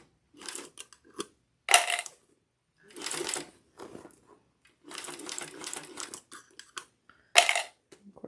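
Sewing machine working slowly over thick seams on a crossbody bag: short, separate bursts of rapid stitching with pauses between them, close and moderately loud.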